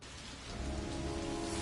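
Steady rain falls in the Heavy Rain video game, a dense hiss of drops that swells slightly louder partway through and continues with no talking.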